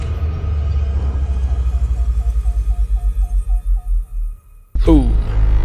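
A deep, rumbling foghorn-like boom from the Elite: Dangerous space game rises out of a throbbing low hum with faint pulsing beeps, then hits suddenly and loudly near the end.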